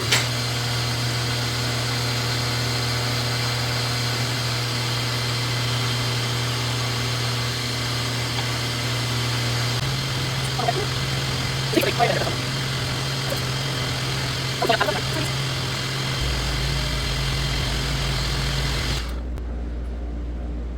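A press running with a steady, loud mechanical drone as it compresses aluminum foil into a deep bear impression die. A few faint crunches rise near the middle, and the hum drops to a lower pitch before cutting off at the end.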